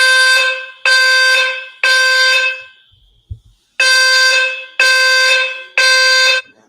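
An alarm sound effect blares in loud, sustained, harmonic honks, three in a row, then a short pause with a faint low thump, then three more identical blasts, with no talking.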